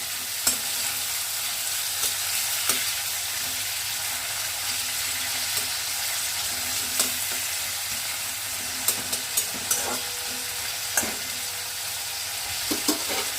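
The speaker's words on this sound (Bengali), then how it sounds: "উচ্ছে এবারে ভেজে নেব।" Bitter gourd frying in a pan over a medium flame: a steady, soft sizzle runs throughout, punctuated by occasional sharp clicks of stirring, with no talking.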